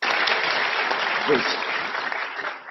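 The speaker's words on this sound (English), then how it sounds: "I don't think that really deserved the clap, quite frankly." Applause from a debate audience fills the hall, a dense, loud, continuous clapping close by that thins slightly toward the end, with a voice briefly audible underneath.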